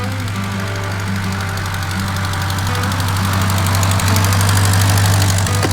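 A tractor engine runs steadily nearby with a deep, constant rumble and rhythmic knocking that swells slightly louder toward the end.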